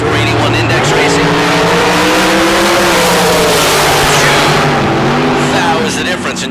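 Drag racing engines roar loudly with a droning, shifting pitch as cars tear down a drag strip at a bracket race, while an announcer talks over the noise.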